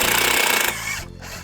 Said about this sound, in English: I'm going to take my included mounting screws. We're going to fasten the back plate.